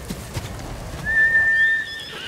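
A horse in the video game Ghost of Tsushima gives a single clear, high whinny that rises and holds briefly, with faint hoof clops and soft background noise around it.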